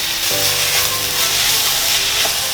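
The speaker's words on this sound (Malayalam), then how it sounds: "നല്ല രീതിയിൽ വഴറ്റി കൊടുക്കണം കേട്ടോ" Chopped tomatoes and chillies sautéing in a pan for a mushroom masala curry, a loud dense continuous sizzle with a low hum underneath, close up.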